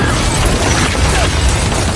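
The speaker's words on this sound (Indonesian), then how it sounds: "sebuah meriam ditembakkan ke gedung tersebut" A cannon shot fired into a building in an action-film scene: a dense, loud blast of roaring, crashing noise that fills the whole stretch without letup.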